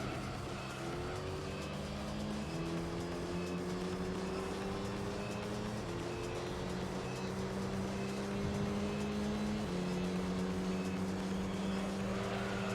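Engine of the LMP Dragon race car in Gran Turismo 3, a steady high-revving drone with rising pitch sweeps as it climbs through gears, shifting at about 2.5 and 10 seconds, continuous and close throughout with no talk.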